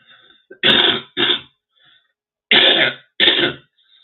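Several raspy throat-clearing bursts come in two pairs, close and loud, with short silences between them.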